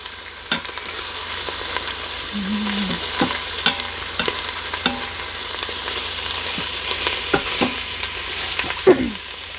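Food browning in a pan of garlic-infused oil: a steady, soft sizzle runs throughout, punctuated by sharp clicks and scrapes of stirring at irregular intervals.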